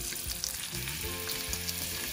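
Garlic and green chilies fry in a pan for a lamb mince curry, giving a close, steady sizzle and crackle with faint stirring underneath.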